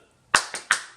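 A group claps together in rhythm, doing an Amis indigenous-style clap during a language lesson: three crisp, close claps in quick succession, the first slightly ahead of the other two, with no talking.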